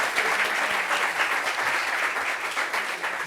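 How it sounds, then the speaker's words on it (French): A studio audience applauds at a steady, dense level throughout, a continuous wash of many hands clapping close to the microphones with no one speaking over it. "Applaudissements pour vous-même,"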